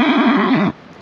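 A horse on a beach at Essaouira, Morocco, gives one loud, close whinny with a wavering pitch that lasts under a second and then cuts off sharply, leaving quiet outdoor background.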